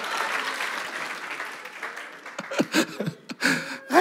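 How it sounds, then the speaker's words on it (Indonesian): An audience applauds at a casual hosted show, the clapping spread thin at first and then breaking into sharper, closer bursts of claps with a few chuckles mixed in. "Tepuk tangan lo dong, Edi Brokoli."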